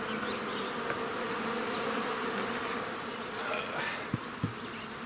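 Honey bees swarm and buzz at an opened hive, a dense continuous drone close to the microphone, with a couple of soft knocks near the end.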